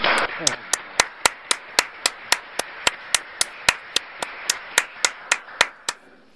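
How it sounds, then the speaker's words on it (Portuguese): Sharp, evenly spaced claps, about twenty in a steady rhythm, loud and close, over a faint background murmur. "Uma salva de palmas para o Brasil"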